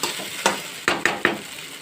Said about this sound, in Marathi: एक 2 मिनिट आपण असेच परतून घेणार आहोत, जेणेकरून शाबू ते व्यवस्थित भाजले जातील.